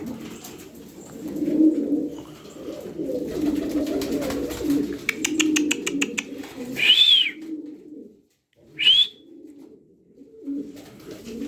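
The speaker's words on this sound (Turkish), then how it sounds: "o, Miro'daki kanat sesine bakın" Pigeon wings flap in a quick rhythmic burst of clapping beats, set among steady low cooing from several pigeons and a couple of sharp whistled calls nearby.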